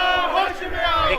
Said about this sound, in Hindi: आप देख सकते हैं कितना ज़्यादा ये प्रोटेस्ट कर रहे हैं।